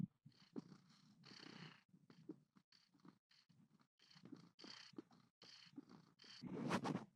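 A cat purrs close up in soft, rhythmic bursts that rise and fall with each breath, getting louder and rougher near the end.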